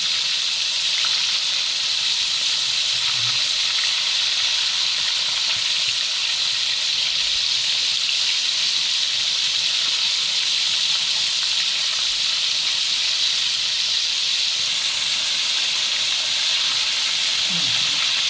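Starch-coated fish deep-frying in hot oil in a wok gives a loud, continuous sizzling hiss that stays steady throughout, with no voices over it.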